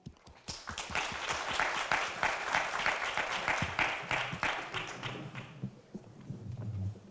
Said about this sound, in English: let's give a big applause for our three prestigious speakers